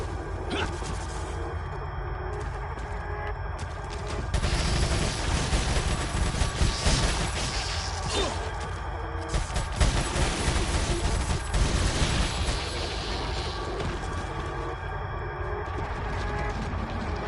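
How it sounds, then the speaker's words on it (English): TMP submachine gun firing in Resident Evil 4, rapid bursts of automatic gunfire over dense game sound effects and background music, loud and continuous with short pauses between bursts. "We need to use the TMP because we're out of shotgun shells."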